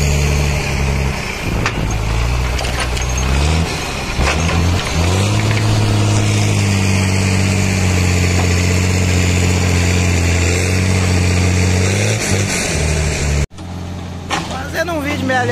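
A tractor engine idles and rumbles steadily close by during the loading of flour, a continuous low drone with people talking over it, ending in a brief cut and a burst of noise.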